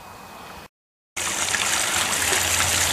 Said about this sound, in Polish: woda spływa do tego wiadra